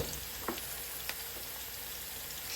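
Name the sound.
onions frying in fat with salt and sugar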